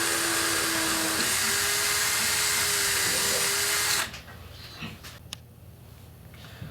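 A power drill bores through Bondo and turkey flesh in a close, loud, steady whirring run for about four seconds, then stops, leaving quiet handling noises.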